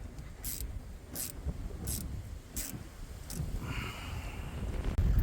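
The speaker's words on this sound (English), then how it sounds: "The bloody wind today is just fucking insane." Strong wind buffets the microphone with a low, continuous rumble among sand dunes, loud and steady throughout, with a few brief hissing bursts overhead and no talk.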